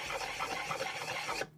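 Flat back of a single-bevel draw knife rubbed on a flat sharpening stone, a steady close rasping scrape lasting over a second before stopping abruptly.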